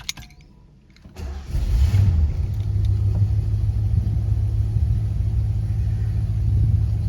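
A 1972 Lincoln Continental's engine turns over and fires after a brief quiet moment, then settles into a steady, deep, loud idle rumble close by, with no voices.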